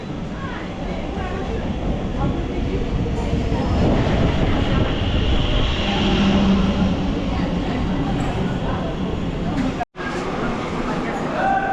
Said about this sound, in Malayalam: മെമു പോയി കേട്ടോ.